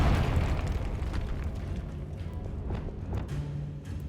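A Confringo blasting spell explosion in Hogwarts Legacy, heard as a sustained, loud rumbling boom with crackling debris that tapers off slowly, with no talk over it.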